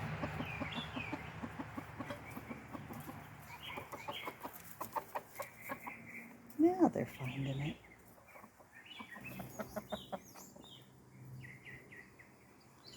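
Farm hens and a rooster cluck softly while pecking birdseed from a feeder, with scattered chirps from other birds and a brief louder squawk, and a person speaks quietly.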